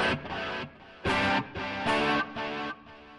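Electric guitar plays a short rhythmic pattern of chords through an iPB 10 programmable pedalboard, each stab echoing with repeating delay and a spacious reverb tail between them.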